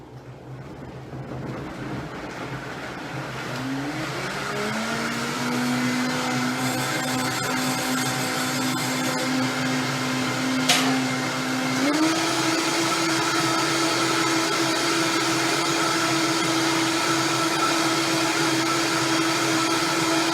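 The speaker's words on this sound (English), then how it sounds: "Alright, so I'm just going to blend it for a minute. It might be kind of loud." A countertop blender runs continuously through frozen banana, berries, ice and spinach, a loud steady whir that climbs in pitch as it speeds up, close and alone.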